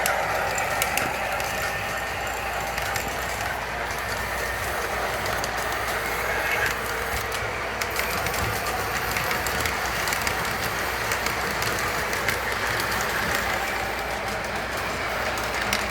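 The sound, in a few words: model train running on track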